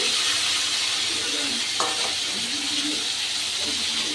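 Potatoes and pointed gourd fry in oil in a pan. A steady, bright sizzle and hiss fills the clip from start to finish, with a soft clink of utensil against pan partway through.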